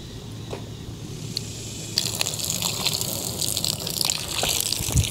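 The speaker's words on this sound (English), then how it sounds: "So we need to add some more water, okay?" Water gushes as it is poured into a toy monster truck mud pit, a close, continuous splashing rush that swells louder partway through.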